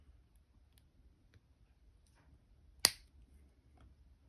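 Wire cutters snip the tail off a jelly bean wire link, a single sharp, close click in otherwise near silence.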